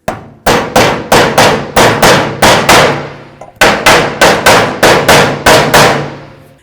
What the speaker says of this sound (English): we're going to carefully drive it in